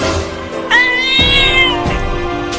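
A cat gives loud, close meows, one drawn-out rising-and-falling cry followed by shorter calls, heard alone without talking.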